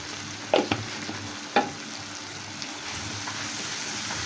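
Cumin and other spices fry in hot oil for a rui fish curry, giving a steady low sizzle with a few sharp spoon scrapes and stirring knocks near the start.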